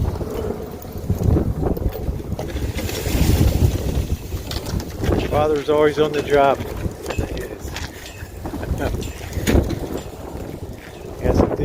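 Gusty wind buffets the microphone in low rumbling bursts while someone speaks, with a brief whistle-like tone partway through.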